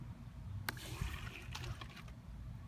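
Water being poured into a homemade water rocket on a remote-controlled launcher, a soft gurgling trickle with a few sharp splashy spikes, close by and steady.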